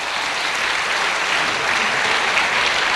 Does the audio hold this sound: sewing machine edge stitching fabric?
no